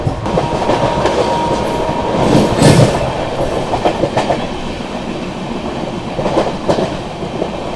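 Sealdah–New Delhi Rajdhani Express (12313) passing through Prayagraj Junction without stopping, a loud, steady rumble of rolling train cars with rhythmic clickety-clack over rail joints and brief surges.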